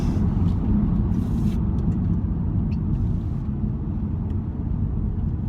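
A Mercedes diesel car accelerates hard, its engine a loud, continuous low rumble and roar heard from inside the cabin, with faint intermittent clicks and no talking.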